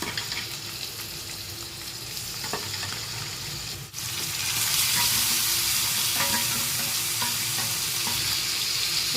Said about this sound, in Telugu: ఇప్పుడు చికెన్ మొత్తం బాగా ఆయిల్లో కలిసిపోయేటట్లుగా బాగా కలపాలండి.